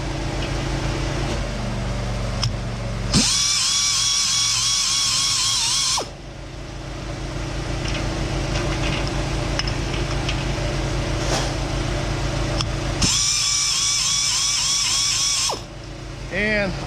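A grinding wheel sharpens a carbide-tipped saw blade, giving two bursts of high, whining grinding about three seconds long each, separated by a lull of motor hum and clicks, with someone talking over the background.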